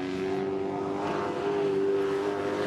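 An Eagle-hull jet sprint boat at a New Zealand championship, powered by a 408 cubic inch Dart-based Chevrolet V8 with cast iron block and heads, drones steadily with a strong engine tone that rises slightly midway.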